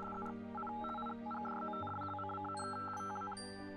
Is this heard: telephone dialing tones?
yes